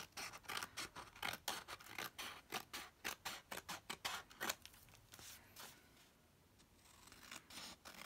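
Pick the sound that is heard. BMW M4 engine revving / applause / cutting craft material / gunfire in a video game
cutting craft material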